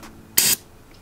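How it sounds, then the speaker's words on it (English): Cleaner is sprayed onto a new clutch disc for a Mazda Miata: a single short, close hissing burst of spray about a fifth of a second long, with faint background quiet around it. "Gonna spray this crap off really quick, get the juice."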